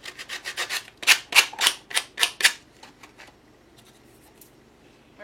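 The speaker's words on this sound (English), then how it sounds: "I'm going to rough it up with my sandpaper." Sandpaper roughing up the surface of a handmade card, a quick series of sharp scratchy strokes, close and fairly loud, followed by fainter scattered rubbing.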